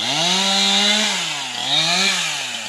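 A chainsaw runs loud and close, cutting up tree limbs, its engine pitch rising and falling as it revs through cuts, with no voices.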